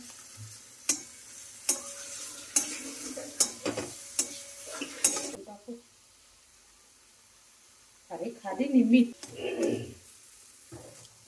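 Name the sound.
mixed vegetable curry with tomato and turmeric sizzling while stirred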